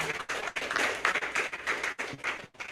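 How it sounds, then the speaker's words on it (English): Audience applause for young students at a talent show, a dense, continuous patter of many hands clapping with brief dips, moderately loud and fairly close. "We clap for them once more."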